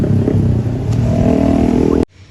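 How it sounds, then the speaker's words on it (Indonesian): A loud, rumbling motorcycle engine with a harsh, rattly aftermarket-sounding noisy exhaust note holds steady close by on a street, then cuts off abruptly near the end. "pengendara tersebut memiliki knalpot yang berisik"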